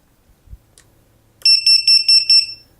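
A Vifly Finder 2 drone locator buzzer, activated by radio, gives a loud high-pitched electronic beeping in a rapid pulsing burst of about five beeps after a faint click and thump.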